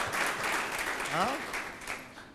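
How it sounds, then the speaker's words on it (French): Applause from an audience at a student competition honouring Université Gaston Berger runs steadily as someone talks over it. "Il faut les applaudir quand même."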